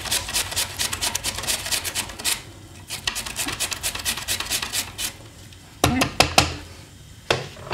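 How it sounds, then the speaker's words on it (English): Knife strokes finely slice an onion on a board in a rapid, even rhythm of crisp cuts, pausing briefly before a few louder, separate chops. "finely slice the onion"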